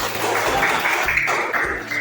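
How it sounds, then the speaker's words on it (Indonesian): Children clap their hands together in a classroom, a dense, steady patter lasting about two seconds with faint background noise mixed in. "Tepuk tangan dulu."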